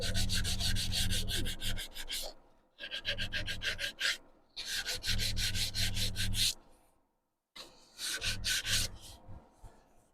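Torn-out grain on a wide-rimmed wooden bowl is sanded by hand in close, raspy strokes: bursts of rubbing broken by short pauses, with a silent gap near the end.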